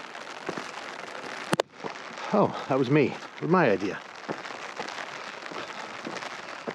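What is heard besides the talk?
rain falling in a canyon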